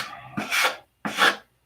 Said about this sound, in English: So you just keep sanding it.